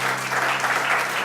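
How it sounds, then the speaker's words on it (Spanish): Church congregation applauding in praise of the King, a dense burst of clapping that fills the room evenly from start to finish. "Démosle un aplauso al Rey"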